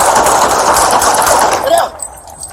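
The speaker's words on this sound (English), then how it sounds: "Shots fired! Shots fired!" Rapid gunfire in a police shootout with car theft suspects in a shopping center parking lot in Milpitas, California, a dense, loud burst of shots for under two seconds that then cuts off.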